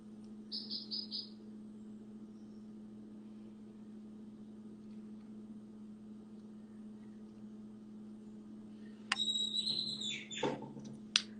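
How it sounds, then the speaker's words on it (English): Brief bursts of high bird chirps in Mexico near the start and again near the end, over a steady low hum with no talking. "Listen to the beautiful birds in the background."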